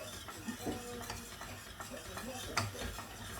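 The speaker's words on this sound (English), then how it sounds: "Now this is important that you keep stirring it because otherwise it will go lumpy" Wooden spoon stirring a lasagne white sauce thickened with corn flour in a pan, soft scraping strokes with occasional clinks against the pot, close and fairly quiet with a faint simmer underneath.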